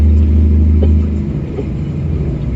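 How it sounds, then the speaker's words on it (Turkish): Car engine cruising at about 50 in Euro Truck Simulator 2, a steady loud low rumble with a droning hum that eases slightly partway through, no talking. "50 ile araba sürüyoruz ya."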